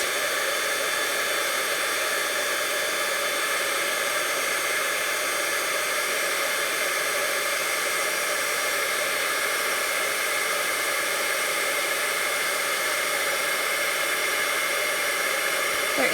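A heat tool melts and sets embossing powder on a card, blowing a steady, unbroken hiss-like whoosh at close range for the whole stretch, with no voices.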